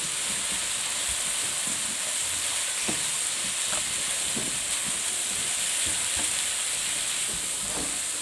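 Frozen sweet corn stir-frying in a hot pan gives a steady, loud sizzle and hiss with occasional soft stirring scrapes, no voices.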